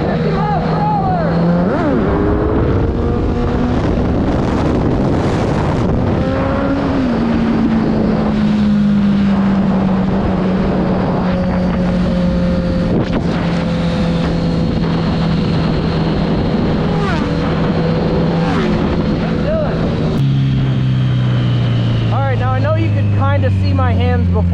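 Kawasaki Z900 motorcycle engine revs hard under heavy throttle while riding for a wheelie, pitch rising and shifting, with strong wind buffeting and a rider talking over it.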